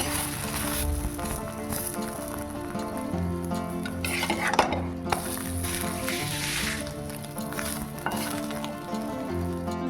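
An egg fries in a pan on a home stove, giving a continuous soft sizzle and crackle with occasional louder bursts. A steady tonal hum plays in the background throughout.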